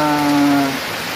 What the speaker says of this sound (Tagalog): Ang lakas ng hangin po at hindi lang hangin, pati yung ulan po